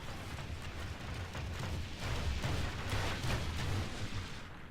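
Units in Third Age Divide and Conquer fire in a dense, steady rumble of overlapping distant shots and booms that swells slightly toward the end, with no voices.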